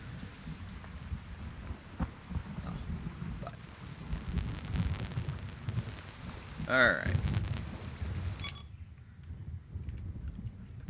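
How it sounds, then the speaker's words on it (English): Steady rain and low rolling thunder rumble through a video game scene, with a voice speaking briefly over the storm noise. "Thunder's rolling good. Sounds amazing."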